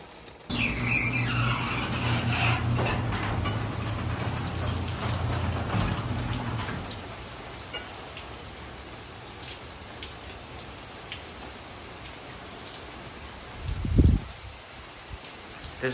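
Steady rain from Hurricane Idalia's outer bands patters in central Florida, heavier at first and then easing into a softer hiss, with a brief low thump near the end.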